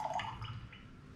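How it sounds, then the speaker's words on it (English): Cocktail poured from a travel mug through a makeshift filter into a glass, a short close trickle with soft drips and splashes over faint low background noise. "you just strain it in your glass"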